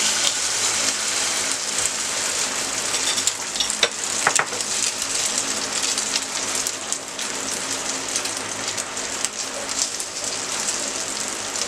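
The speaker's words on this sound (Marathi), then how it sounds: "तेल तापलेलं आहे। आता अंड्याचं मिक्सचर घालून घेऊया।" Omelette egg mixture poured into hot oil in a pan, crackling and sizzling in a dense, steady hiss with scattered pops, close and fairly loud, no talking over it.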